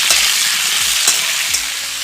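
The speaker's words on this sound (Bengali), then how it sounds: "আলু নাড়াচাড়া করে নেব।" Cut potatoes fry in a hot pan with a strong steady sizzle as a spatula stirs them, making three clear scraping strokes at a regular pace with no talking.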